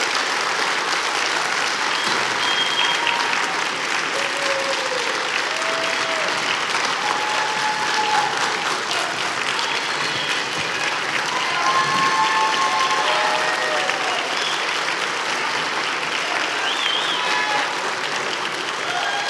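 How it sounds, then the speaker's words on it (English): Sustained audience applause for seniors and their industry partners at a school career and technical education signing day, dense steady clapping filling the room for the whole stretch with a few faint voices mixed in. "let's have a round of applause for all our seniors and these partners"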